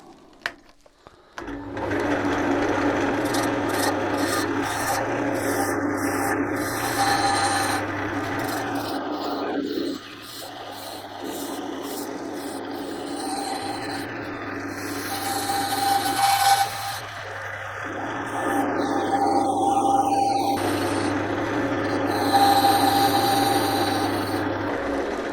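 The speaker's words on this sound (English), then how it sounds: "Going to use my Ashley Isles 12mm spindle gouge, and then I can then just finish off this top." Steady lathe hum with the scraping hiss of an Ashley Isles 12mm spindle gouge truing segmented wood, the cut rising and easing in bursts over a continuous motor drone, close and fairly loud with no talk.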